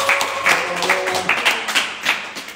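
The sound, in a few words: audience applause for the ustadz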